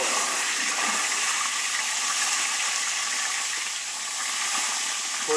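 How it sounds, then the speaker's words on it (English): A turkey being deep-fried in hot oil gives off a steady, even sizzle and hiss, close and continuous with a brief dip near the end, and no talking. "Now it's going to sizzle a little bit right away, because as soon as all the fluid from this turkey hits it"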